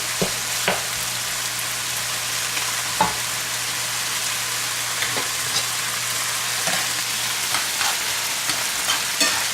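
Onions and rice frying in a pan for chicken fried rice, a steady close sizzle with occasional stirring scrapes and clicks throughout, no voices.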